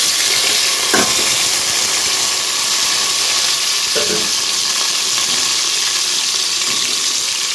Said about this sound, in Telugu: ఇంకా ఆయిల్ పోసి అందులో బిర్యానీ దినుసులు అవైతే వేస్తున్నాను అనమాట